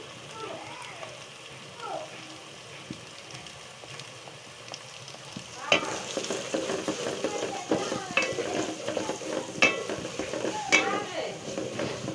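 Chicken curry with chal kumra (ash gourd) sizzles in a pan after turmeric goes in, first as a quiet steady fry, then as louder stirring with scraping and clinks of a spoon against the pot.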